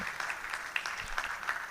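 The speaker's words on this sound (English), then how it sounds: "Keep clapping, keep clapping." Audience at a national conference clapping to welcome an ambassador to his seat; scattered, moderately loud claps with a few sharper individual hits, continuous across the short stretch.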